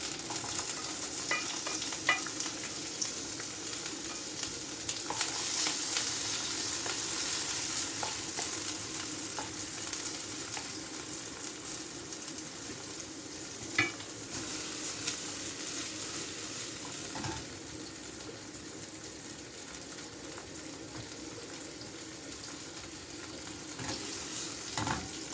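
Tomato sizzles and fries steadily in a pan for a Sicilian swordfish and eggplant pasta, with occasional scrapes of stirring and small clinks over a constant hissing bed, close and with no voices.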